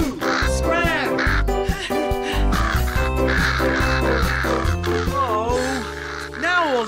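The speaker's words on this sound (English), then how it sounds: "The crow's eating the wheat, B1." Cartoon crow caws repeatedly in a garden wheat field, loud, bright animated calls with musical score and sound effects underneath, over and around a speaking voice.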